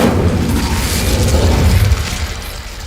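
The Incendio fire spell in the video game Hogwarts Legacy, cast on a brazier: a loud, low whooshing burst of flame that roars steadily, then fades over about three seconds, with no talk over it.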